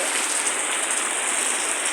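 Steady rain falls outdoors in a dense, even hiss that continues unbroken throughout, with no voices.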